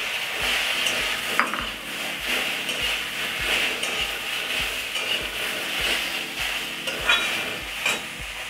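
Elephant apple pieces frying with five-spice in a pan, a loud steady sizzle running throughout, overlaid by repeated scraping and stirring knocks of a utensil against the pan.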